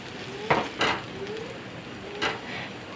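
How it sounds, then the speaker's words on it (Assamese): A utensil stirs onion, ginger and garlic with turmeric sizzling in a pan, making a few scraping strokes over a soft, constant frying hiss. "দি দিয়াৰ পাছত মই ভালদৰে পিঁয়াজ আৰু আদা লচুন নহৰুবিলাক ভালদৰে মিক্স কৰি দিলোঁ"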